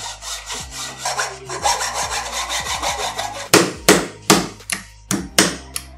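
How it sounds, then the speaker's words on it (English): A small piece of wood, cut to about one inch and shaped to fit a mountain bike frame, is sawn with steady back-and-forth rasping strokes, then struck with several sharp, separate knocks, close up with no talking. "I cut it about 1 inch and making a shape so that it can fit easily to the frame."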